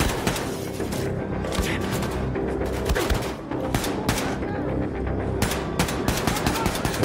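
Dense, loud gunfire from Wolfenstein II: The New Colossus, rapid automatic bursts and explosive shots in near-continuous fusillade with brief pauses.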